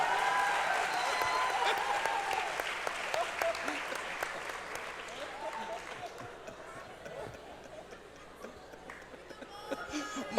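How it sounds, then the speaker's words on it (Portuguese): An audience applauds at a round-table congress session, sustained clapping from a roomful of people that gradually thins and softens, with voices talking over and through it. "Salva de palmas para o Mário."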